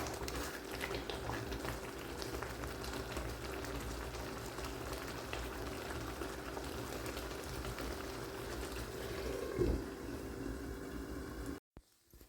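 Tomato thokku simmering in a pan: a steady, soft bubbling and sizzling that stays even for many seconds, then a brief clatter and a sudden cut to silence near the end.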